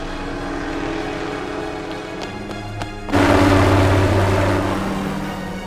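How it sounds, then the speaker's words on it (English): An army helicopter in a Nanobreaker video game cutscene on PlayStation 2 drones steadily, then swells suddenly louder and fuller partway through as it draws nearer, with no speech. "Over there! That's an army chopper."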